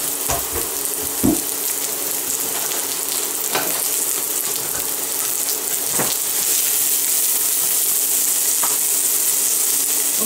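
Food poured into a hot cooking pot sizzles loudly and steadily, with a few sharp clinks and scrapes of utensils against the pot scattered through; nobody speaks.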